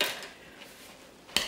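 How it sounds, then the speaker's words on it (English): Potatoes being mashed with milk and butter in a pot, heard as a soft scraping start and a sudden metallic clank of the masher against the pot near the end, close by. "So we're just mash the potatoes and we're going to add some milk"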